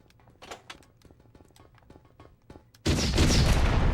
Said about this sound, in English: Grab the turret.